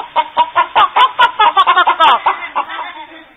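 A voice imitating a chicken in a comedy skit gives a quick run of about a dozen loud, close clucks in a steady rhythm, then trails off into softer chuckling sounds.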